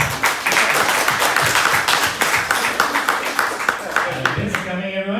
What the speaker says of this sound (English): Round of applause for Skip.